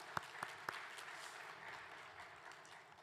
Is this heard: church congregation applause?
yes